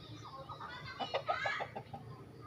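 A Rhode Island Black hen clucks softly nearby, a short run of low, rhythmic clucks against a faint farmyard background.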